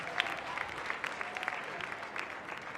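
Audience applause at the opening event of the Beyond the Bars 2015 gathering; a steady, fairly distant wash of many hands clapping with faint voices underneath.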